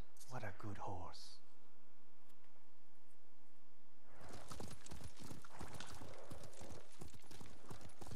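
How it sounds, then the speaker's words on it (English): Steady horse hooves clip-clopping at a brisk walking pace in the video game Ghost of Tsushima, close and clear, with a brief burst of other sound at the start. "What a good horse."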